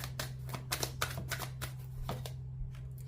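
Tarot cards shuffled by hand, a quick run of soft papery riffles and taps close up, fading toward the end with no voices.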